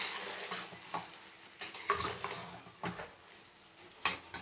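Drumstick pieces fry in a pan as lentil powder is stirred through them, giving a soft steady sizzle broken by several louder scraping stirs of a utensil against the pan, close and with no talking.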